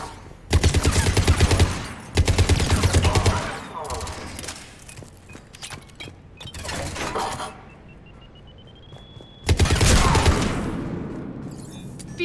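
Gunfire in the Mass Effect 3 Legendary Edition video game: several loud, dense bursts of rapid automatic fire, separated by quieter stretches of scattered shots and combat effects.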